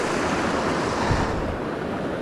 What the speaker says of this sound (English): This is the way we cross the stream